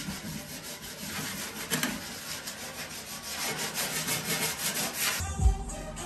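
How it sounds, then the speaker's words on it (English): Hand deburring of aluminum spars for the horizontal stabilizer of a Rans S-21 aircraft kit, a steady scraping and rubbing that continues throughout, close and moderately loud, ending with a brief sharper knock. "Deburring the spars of the horizontal stabilizer."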